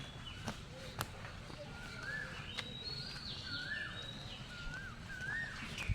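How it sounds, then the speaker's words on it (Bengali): Several birds call and chirp through the morning air during a walk on a foggy dawn, their short rising whistles repeating at a moderate distance over steady background noise and faint footsteps. "পাখির ডাক কত সুন্দর লাগতেছে"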